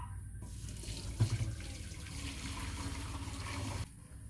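Warm soy milk pours in a steady splashing stream while tofu is being made with gypsum coagulant, running continuously before stopping abruptly near the end.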